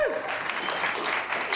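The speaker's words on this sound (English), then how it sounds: "Now you can clap" Audience applause at a comedy show, a dense steady wash of clapping running the whole moment at even loudness, with a brief voice or squeak near the start.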